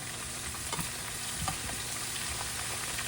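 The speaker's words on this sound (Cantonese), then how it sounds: "炸薑去到咁上下咧" Sliced ginger fries in a shallow pool of hot oil at the start of making scallion oil for braised sea cucumber, giving a steady, soft, continuous sizzle with faint bubbling, close by and with no talk.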